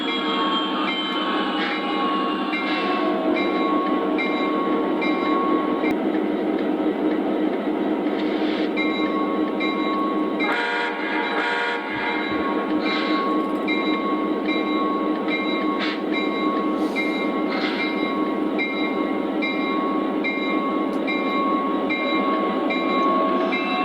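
O gauge model train with a Conrail GP30 locomotive running in a grain yard switching layout: a steady, continuous mechanical hum and whine with faint clicks and ticks throughout, and no talking.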